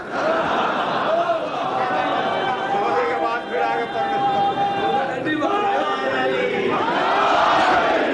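A large crowd at a religious gathering in Multan chants slogans in unison, a loud sustained mass of voices rising and falling in rhythmic calls, swelling toward the end.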